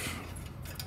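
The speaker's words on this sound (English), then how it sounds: "take a washer and a lock washer, slide it over this side." Steel washer and lock washer slid over a bolt during a 2x72 belt grinder build, making faint, light metallic clinking and scraping over a fraction of a second.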